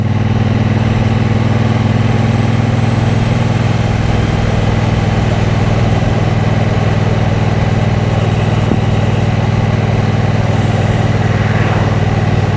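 A 2023 Triumph Bonneville Bobber 1200 motorcycle engine idles steadily nearby, a constant low throbbing rumble that holds even the whole time with no voices.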